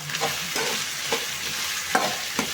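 Onion and potato frying in a pan with fennel seeds, a dense close sizzle broken by regular scraping strokes of a spatula about every half second.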